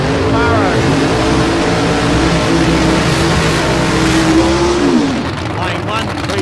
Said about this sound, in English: 615 cubic inch big block Chev under the bonnet of the Monaro